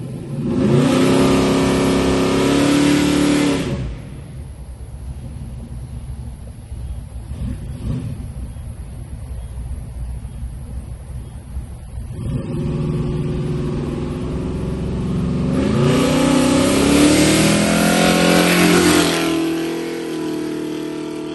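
Chevrolet S10 truck in brown primer revving hard on a test run, loud engine roar building at the start, dropping to a quieter idle-like rumble midway, then surging again with a second strong acceleration near the end.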